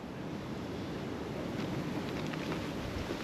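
Wind buffets a riverbank on the River Carron on a rainy day, a dense, steady rushing roar with no pauses, close to the microphone and loud against the faint overall level.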